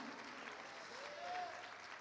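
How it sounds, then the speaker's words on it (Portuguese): A church congregation applauding during a worship service, a soft continuous patter of many hands, distant and faint, with a brief tonal sound rising in the middle. "aplaude aí, aplaude a palavra do Senhor"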